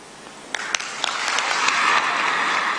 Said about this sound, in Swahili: Tumpe makofi mengi sana sana.